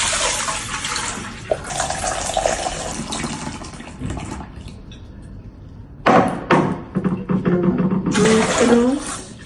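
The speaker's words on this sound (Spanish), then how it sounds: "Ahora voy a preparar la salmuera, la cual consta de 3 litros de agua," Water poured for a brine of three litres of water with salt, for salting pork belly, splashing and rushing steadily in two bursts with a short quieter gap between.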